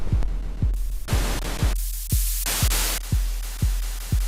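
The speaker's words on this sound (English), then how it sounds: "Okay, so this is white noise." An Elektron Model:Samples plays a white noise sample in a pulsing pattern, with bursts of hiss switching on and off over a regular thumping low beat that repeats about twice a second, alone with no talking.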